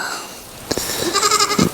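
A goat lets out a single wavering bleat close by, short and nasal, with faint outdoor background.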